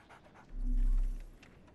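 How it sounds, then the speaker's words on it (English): A dog pants in the video game Sherlock Holmes: The Awakened, one brief breathy swell that rises and fades, close and moderately loud with no talk. "So, Barnes has a dog now."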